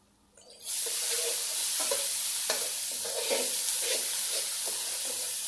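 Spice paste frying in a karahi before camel meat goes in, with a sudden onset of loud, steady sizzling and hissing and intermittent stirring scrapes, close up and continuous.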